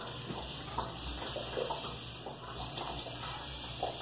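Water flows into a washing machine that fills from below, a steady low wash of liquid with soft gurgles and splashes over a constant hum.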